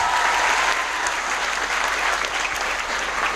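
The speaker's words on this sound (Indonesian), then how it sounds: "Tepuk tangan dulu dong" An audience at a sermon bursts into loud, dense applause, a steady wash of many hands clapping at once that holds at full strength throughout.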